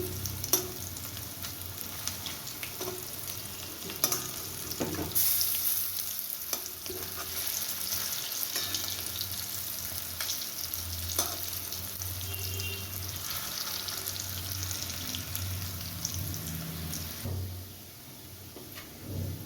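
Steady, loud sizzling of banana flower fritters frying in hot oil, a continuous crackling hiss with occasional scrapes and clinks, no voices.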